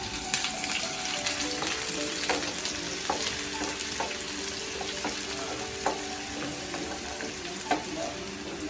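Onion fries in a pan of oil with a soft, steady sizzle, while a spoon stirs and taps against the pan at irregular moments, with no voices.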